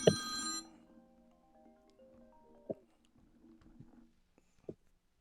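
A phone ringing with an incoming call: a bright electronic ring bursts out at the start, then a few faint, sparse tonal blips follow in a quiet room.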